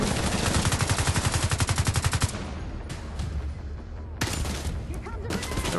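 Rapid automatic gunfire in The Division 2 rattles in a dense rhythmic burst for about two seconds, then scattered shots and heavy combat noise continue in short loud bursts.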